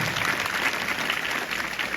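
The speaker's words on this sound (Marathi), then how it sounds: "एकदा जोरदार टाळ्या वाजवा" A crowd of school students claps loudly and steadily at a morning assembly, dense applause filling the whole moment without pause.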